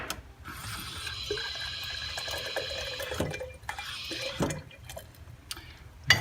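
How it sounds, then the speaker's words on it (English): Hot water runs from a sink tap into a container, splashing and trickling in uneven bursts with clinks, close and moderately loud, no talking. "the next step is to add 4 ounces of the hot water"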